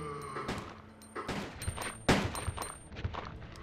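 Several sharp gunshots ring out in Resident Evil 2, irregularly spaced bursts at close range with quick echoing decays, one notably louder shot near the middle, no speech.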